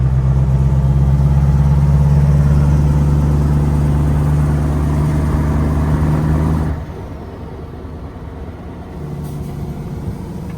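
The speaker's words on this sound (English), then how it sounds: "The sound of this truck is amazing." A 1977 Scania LKT 141 truck's V8 engine idles with a steady, deep, loud rumble heard up close, then drops noticeably quieter partway through as if a door closes or the listening position shifts.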